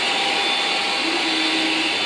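Xiaomi Mijia Ultra-Thin robot vacuum cleaner running in intensive cleaning mode gives a steady, loud whirring hum of motor and suction, constant throughout with no voices.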